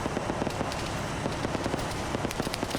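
Rapid bursts from a 14.5 mm heavy machine gun in a PvP video game battle involving BTR-80 armored vehicles, sharp cracking shots repeating in quick irregular clusters at a moderate distance.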